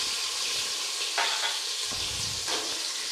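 Chopped ginger, tomato and green chili sizzle in hot mustard oil, hissing steadily while being stirred with a few soft scrapes, and no one talks.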